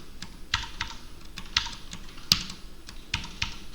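Computer keys pressed for a keyboard shortcut to close a tab, a quick run of light, sharp clicks and taps with one louder keystroke midway, close and unaccompanied by speech.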